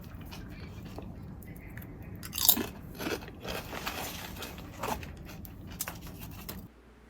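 A crunchy snack is eaten close up, with crisp bites and crunching chews in short irregular bursts over a low, steady background.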